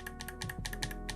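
Rapid keystrokes on Gateron switches fitted to a Wooting 60HE keyboard, a close, fairly quiet run of about a dozen clicky-thocky presses in quick, uneven rhythm with no talk.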